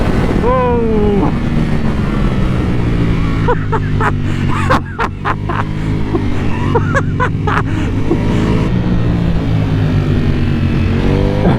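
A Ducati Panigale V4S motorcycle ridden flat-out around Silverstone circuit, its loud, sustained engine roar rising and falling through gear changes under heavy wind buffeting, close to the rider.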